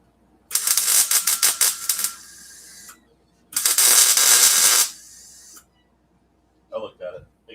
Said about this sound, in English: Good old no look weld.